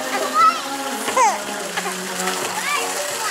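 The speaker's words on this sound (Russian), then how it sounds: "Динозавр с водой, фонтанчик." Water splashing from a small dinosaur-shaped fountain on a Santa Monica walkway, a light continuous spatter under a voice and other people talking nearby.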